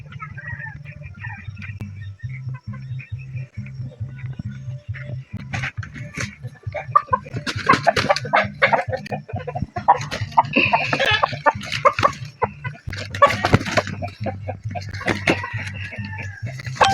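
Chickens cluck repeatedly near a rural hut, their short calls scattered throughout while people talk over them for much of the time.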